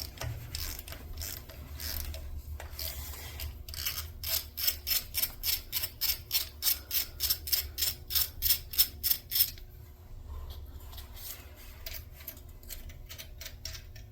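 A bottoming tap is turned by hand to thread a hole during timing gear replacement on a 1987 Chevy S10 Iron Duke engine: a long run of quick, evenly spaced ratcheting clicks, close and crisp, then softer scattered clicks.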